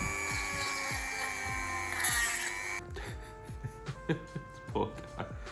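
A drill whines at high speed for a few seconds with repeated ticking as the bit goes through 3D-printed plastic. Then it stops and scattered knocks and handling sounds follow.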